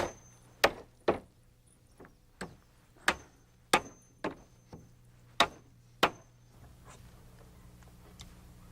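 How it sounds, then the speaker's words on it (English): Nails hammered into wooden stair risers ring out as about ten sharp, close blows at uneven intervals, some quick pairs, each with a short woody decay over a faint low hum. "now all I need to do is finish nailing off the risers"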